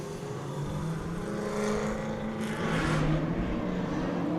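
Drift cars at LS Fest West pull away together, engines rising in a steady, building roar with climbing revs, heard from some distance over the broad noise of a crowded event.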